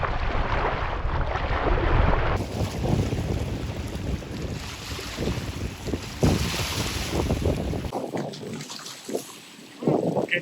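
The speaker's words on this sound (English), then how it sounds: "You don't even have to paddle, there's so much wind." Strong wind roars across the microphone while a stand up paddle boarder rides downwind at sea in the Baltic between Sweden and Finland, with steady rushing gusts and water splashing throughout.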